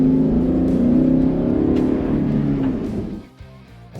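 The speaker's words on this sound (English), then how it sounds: "This car, of course, still has a lovely petrol V8, and that means heaps of grunt, and of course, that fantastic sound." Petrol V8 engine of a Jeep Grand Cherokee L revving loudly and steadily up close, a deep throaty roar that holds for about three seconds, then drops away to a quieter idle rumble.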